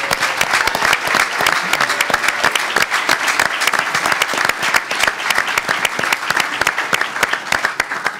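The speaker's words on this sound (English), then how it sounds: "Let's give them all a round of applause." An audience breaks into sustained, loud applause, dense clapping continuing steadily for several seconds.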